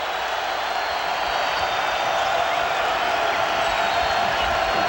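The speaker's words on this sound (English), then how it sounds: "Here comes the Arkansas crowd rising to attention" A home crowd roars steadily at an Arkansas college basketball game against Kentucky, a loud, continuous wash of cheering and applause that holds for the whole stretch with no pause.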